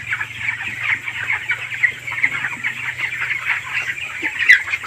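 Twenty-day-old chickens cluck steadily and closely while eating, a busy overlapping chatter with a low continuous hum underneath.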